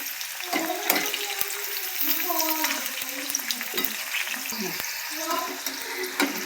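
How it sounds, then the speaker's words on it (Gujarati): Eggplant fries in hot oil for Kathiyawadi undhiyu, a constant close sizzle broken by scraping stirs and short spattering bursts. "રીંગણા પણ નાખી દઈશું અને હળકીથી તળવા દઈશું"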